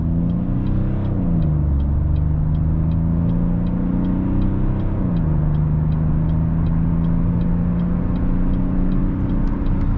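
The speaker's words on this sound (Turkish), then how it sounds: "Dip gaz. Şu anda dip gazım." A 2021 Opel Insignia with an AT8 automatic gearbox accelerates hard at full throttle, its engine droning loud and steady from inside the cabin, pitch climbing and dropping at two upshifts, with no talk over it.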